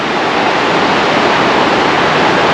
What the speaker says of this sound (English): Pretty little waterfall.